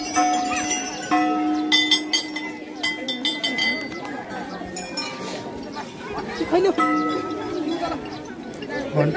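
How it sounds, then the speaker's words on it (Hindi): Bright metallic temple bell strikes ring out several times at irregular moments at Swargadwari temple, layered over a busy background of chatter and clinking. "घंटी बजाओ घंटी बजाओ"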